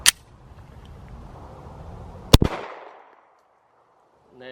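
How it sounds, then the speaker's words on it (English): Two sharp, loud Glock 19 9mm pistol shots fired outdoors at a can, one at the very start and another about two seconds later, each followed by a brief echoing decay into quiet. "So for the next one, we're gonna be shooting our Glock 19"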